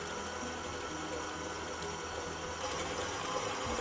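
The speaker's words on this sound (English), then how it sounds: "Then we carry on mixing that for around about 10 minutes on second speed." Stand mixer kneading bread dough on second speed, giving a steady, continuous mechanical churning and whirring hum that stays even and fairly quiet throughout, with no talking.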